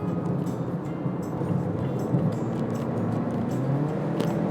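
A Mazda 2 accelerating on a test drive, its engine a steady, loud drone heard from inside the cabin with no talk over it.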